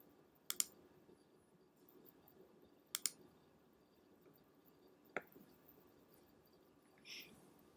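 A few sharp computer mouse clicks at a desk while working in the Hinkspix Pro configuration tool, spaced irregularly as isolated taps over a quiet background.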